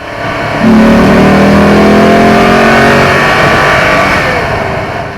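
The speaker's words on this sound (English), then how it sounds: "Hearing my boys in the car with that V8 wailing." A Maserati GranSport V8 revs loudly close by, its engine note climbing and holding a strong, steady wail for several seconds before easing slightly, with no voices present.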